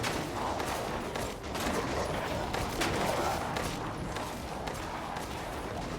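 Gunshots fired at a Lycan in a barn in Resident Evil Village, several shots merging with ambient game noise, moderately loud.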